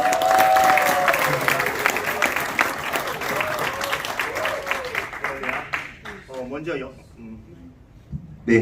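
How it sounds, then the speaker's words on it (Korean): Loud applause fills a fundraising evening for a comic-book evangelism ministry, sustained clapping that fades gradually while a speaker's voice rises over it toward the end. "큰 박수로 모시겠습니다"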